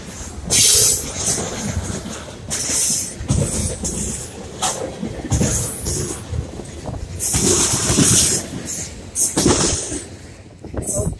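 A freight train rolls along the rail nearby, giving a steady broadband rumble with bursts of metallic squeal and clatter, loud throughout, while a person talks over it.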